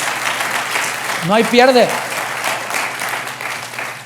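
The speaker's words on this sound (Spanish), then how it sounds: "Le das un aplauso al Señor porque Él guardará tu alma" A church congregation breaks into applause during a worship service, a broad clapping wash running the whole time while a preacher's voice speaks over it near the middle.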